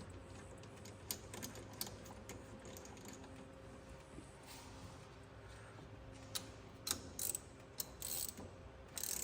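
Ratchet clicking as a spark plug is threaded back into a John Deere Gator 6x4 utility vehicle engine, with light rapid pawl ticks throughout and a few louder clicks and knocks near the end, no talking.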